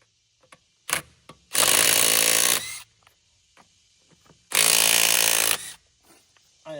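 A power tool with a 7/8 socket spins off car wheel lug nuts in two loud, sustained whirring bursts of about a second each, separated by quiet handling clicks and clanks.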